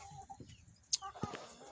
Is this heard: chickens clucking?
yes